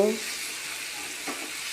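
A vegetarian cauliflower and potato curry simmers in a pan, giving off a soft, steady sizzle and hiss at low volume, with a short clatter at the very start.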